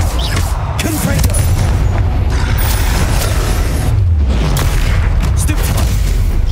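The Confringo blasting spell explodes in Hogwarts Legacy as a loud, low booming blast with rumbling, mechanical-sounding debris, followed by a second heavy thump a few seconds later, all under steady game noise.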